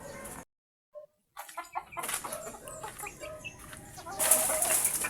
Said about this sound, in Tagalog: Yan po, marami po manok.